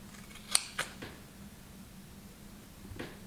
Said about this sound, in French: il va falloir couper au niveau des angles